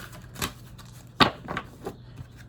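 Tarot cards being shuffled by hand, a run of soft papery riffles and flicks with one sharper snap near the middle, close and fairly quiet with no talking.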